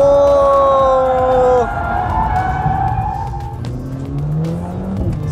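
An AMG CLA45 S drifting on a track, its tires squealing in long rising and falling howls over a roaring engine, close and loud, with no speech.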